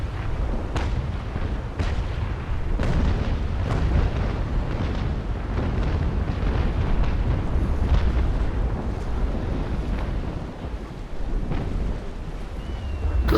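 Naval Action sailing-ship cannons fire in the video game, a scattered series of deep booms at irregular intervals over a constant rumble of wind and sea, with no voices.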